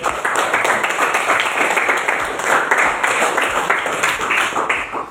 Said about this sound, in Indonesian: boleh tepuk tangan buat si Cepi